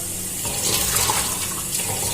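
Water runs steadily from a household tap, a continuous splashing gush into a sink or container that stays close and fairly loud throughout, with no talking.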